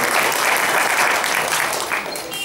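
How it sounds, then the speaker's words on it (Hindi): Audience applause at a public gathering, dense and steady for the whole stretch, loud and close, thinning slightly at the end. "इसलिए ताली बजा कर उनका हम फिर अभिनंदन"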